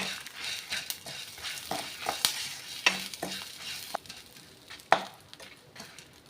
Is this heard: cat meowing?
no